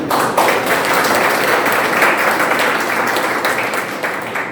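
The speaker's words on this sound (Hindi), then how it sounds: "एक बार जोरदार ताली।" A seminar audience at an income-scheme presentation breaks into loud, sustained clapping, a dense even wash of hand claps that holds steady throughout with only slight dips, no voices on top.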